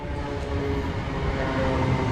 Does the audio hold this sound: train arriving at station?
yes